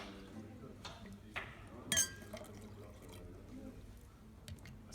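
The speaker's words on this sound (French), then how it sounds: "Je vais vider mon verre." A glass being emptied while preparing slow coffee: faint liquid pouring and a brief bright glassy clink midway, low and close, with quiet handling noise around it.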